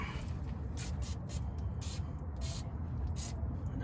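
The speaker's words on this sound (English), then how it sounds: "I'm gonna spray this one right here." An aerosol can sprays underneath a Ford Focus ST during an exhaust upgrade, giving a few short hissing bursts in an uneven rhythm over a low, steady background rumble.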